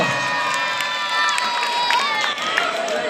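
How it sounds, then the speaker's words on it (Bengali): Loud, continuous crowd noise with cheering and shouting fills a school award ceremony honouring teachers for perfect attendance, a dense wash of many voices with bursts of excitement throughout. "একটা জোরে করতালি হবে স্যারের জন্য।"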